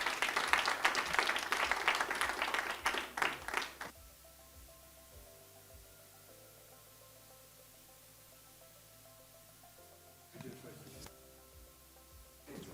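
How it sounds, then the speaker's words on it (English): A webinar audience gives the panelists a round of applause, dense clapping for about four seconds before it cuts to quiet room hum, then a brief burst of noise near the end. "I hope you'll give them a big round of applause, George, Marie, and John."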